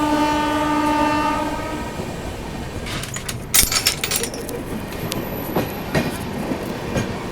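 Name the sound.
Goa Sampark Kranti Express train accelerating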